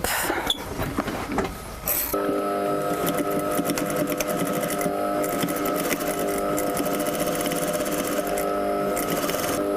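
A sewing machine stitches a pinned fabric strip, running in a steady close mechanical whir after a few brief handling knocks at the start.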